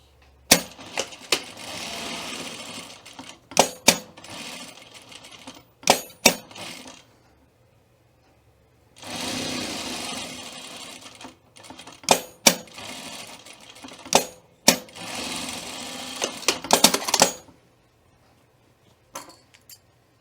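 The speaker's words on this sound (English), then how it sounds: "now we're gonna sew our flap together" A sewing machine stitches a pocket flap with fabric placed right sides together, running in several whirring bursts of a few seconds each, split by sharp clicks and knocks and short pauses, close and with no voices.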